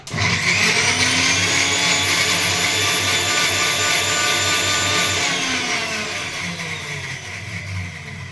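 A kitchen mixer grinder whirs loudly and steadily, grinding masala paste for a Telugu pachi methala pulusu curry. The motor whine holds for about five seconds, then eases slightly in pitch and level, with no talk over it.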